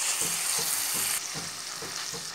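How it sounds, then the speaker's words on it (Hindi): Chicken sizzles and fries in a pan with dark soy sauce, vinegar and chili flakes, a steady close hiss broken by regular soft stirring scrapes, with no voices. "अब इन सॉसेस और मसालों में चिकन को 1 मिनट तक के अच्छे से फ्राई होने देंगे"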